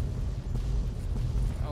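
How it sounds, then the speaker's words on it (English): Rumbling explosions at Raven Rock in Fallout roll on as a low, heavy, continuous boom with several swelling bursts, loud and dense. "Oh wow, that's a lot of explosions."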